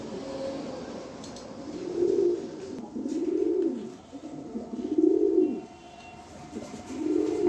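A pair of pigeons, male and female, coo nearby in four low, rounded calls spaced about a second and a half apart, each swelling and fading, with quiet rustling between and no talk.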